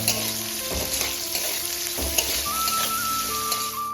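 Bay leaf, dried red chili and raw onion fry together in hot oil for a Bengali bata fish and drumstick curry, producing a loud continuous sizzle with soft stirring knocks and a thin whine joining midway.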